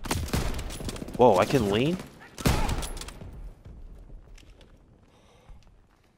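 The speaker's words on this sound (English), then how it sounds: "Shit, where am I being shot from?" Gunfire in the World War II shooter Call of Duty WWII, with sharp bursts of shots and heavy impacts early on that fade into a quieter stretch, while a player speaks briefly over the action.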